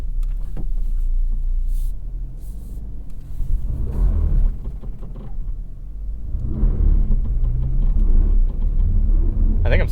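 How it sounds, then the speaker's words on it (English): A 2024 Subaru Crosstrek reversing up an incline with hill descent control engaged, a steady close engine rumble that swells slightly toward the end. "Okay, so even in reverse, it's applying brake for me as I back up."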